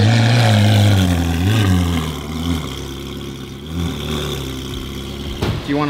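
A rebuilt Ferrari engine fitted with headers revs hard up close, a loud throaty roar that swells and settles into a rumbling idle before a sharp blip at the end, with people talking faintly.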